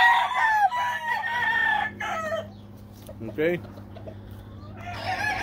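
A rooster crows outdoors on a sunny day, one long harmonic call ringing out near and loud over a low steady hum, with a voice speaking briefly around it.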